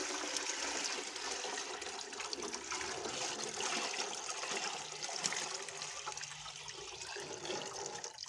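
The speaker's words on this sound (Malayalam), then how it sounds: "സാവകാശത്ത് വെള്ളം ആക്കി കൊടുക്കാം" Water runs in a steady, close stream as it is slowly poured into a fighter (betta) fish breeding tank during cleaning, a continuous trickling wash with no talking.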